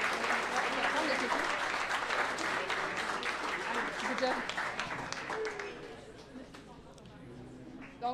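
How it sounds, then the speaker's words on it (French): Audience clapping after a presentation, a dense burst of applause that gradually thins and fades toward the end, with voices murmuring underneath. "On peut lui donner une bonne main d'applaudissement."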